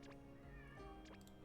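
A pet cat yowls loudly indoors, two or three insistent, drawn-out meows close to the microphone over a faint background hum.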